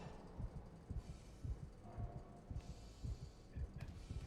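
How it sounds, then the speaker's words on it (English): Video game character's heartbeat: a soft, low double thump repeating about every half second, steady and muffled beneath a faint hum. "Hear his heart beating? If you turn it up, you hear that?"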